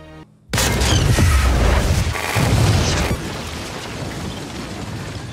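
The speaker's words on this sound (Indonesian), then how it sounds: "Ledakan itu cukup membuat satu gedung rubuh." A film explosion brings down a whole building. It starts with a sudden, loud, close boom, then a long roaring rumble of debris that eases into a sustained lower crash.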